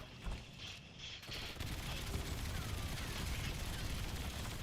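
Dense, rapid gunfire from a shooter video game fills the clip as a continuous rattling fusillade, steady and fairly quiet, with a brief lull near the start.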